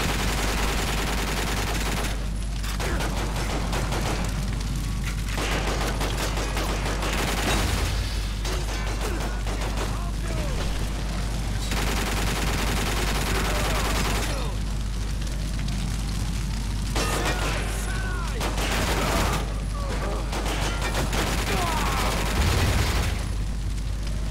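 Bursts of rapid gunfire crackle in long volleys with brief gaps, loud and close over a constant low rumble, from the video game 007 Quantum of Solace.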